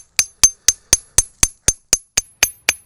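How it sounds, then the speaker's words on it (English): A hammer beats a copper dart point flat in eleven sharp, evenly spaced metallic strikes, each ringing briefly, at close range with no talking. "you basically have to hammer them down"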